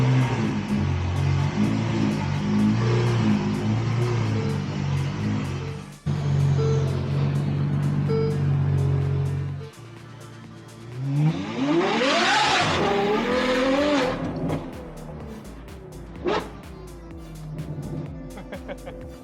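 A loud Ferrari 812 GTS driven hard, its engine roaring through rising and falling revs with a sharp climbing pull in the middle, heard close from inside the car, with voices briefly mixed in.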